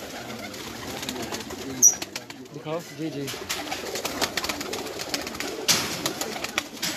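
Lakha pigeons on a rooftop loft give soft, intermittent coos amid light rustling, while someone speaks briefly nearby.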